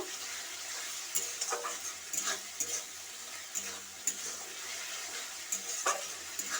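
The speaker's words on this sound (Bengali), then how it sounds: "মশলা দিয়ে আমি এবার ভাজা কুঁদরোইগুলোকে দিয়ে দিচ্ছি" Fried ivy gourd stir-fried in spiced oil makes a soft, steady sizzle at low volume, broken by occasional scraping stirs and light clinks of a utensil, with no talking.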